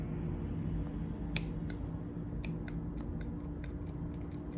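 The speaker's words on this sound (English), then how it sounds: "These shears are not the best." Worn shears snip through yarn with a handful of short, crisp cuts in quick succession, fairly faint over a steady low hum.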